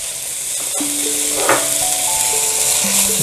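Abalone innards sauté in a pan for abalone porridge, a steady close sizzle with occasional tonal squeaks and light stirring, no talking.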